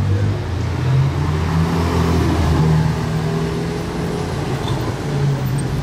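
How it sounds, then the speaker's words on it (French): A red Ferrari 812 Competizione drives past at a distance, its engine a steady broad roar that swells slightly and then recedes, heard alone over outdoor ambience. "812 Competition là, rouge qui vient de passer là-bas"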